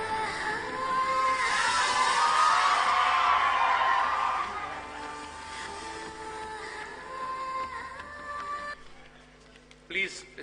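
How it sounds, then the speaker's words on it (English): At a student parliament event, a large crowd roars with hooting, whistling and screaming, loud and sustained for several seconds before easing, with a voice over a loudspeaker and a brief burst near the end. "Please do not hoot and whistle, my friends."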